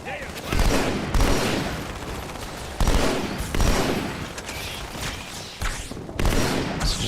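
Assault rifle gunfire in Halo 2, loud rapid bursts of automatic fire repeating every second or so amid booming impacts, close and punchy throughout.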